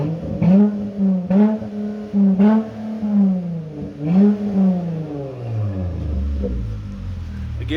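A Dodge Challenger with the 3.6 V6 and a modified exhaust, its factory X-pipe, resonators and mufflers removed, revs in several sharp close-up blips, then settles to a deep, rumbling idle.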